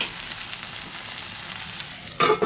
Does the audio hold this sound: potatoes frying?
yes